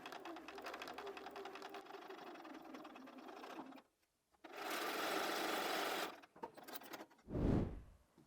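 A sewing machine stitches a quilted pinwheel block for a Christmas tree skirt, running in steady close bursts, pausing briefly, then resuming in a long run followed by a few short stops and starts.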